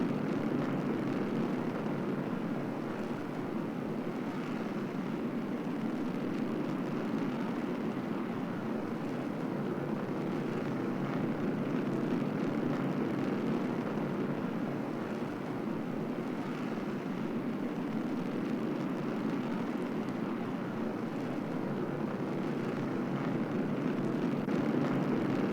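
R7 rocket engine in the game KSSR Space Program, a steady broad roaring rumble of thrust holding at constant loudness throughout with no pauses.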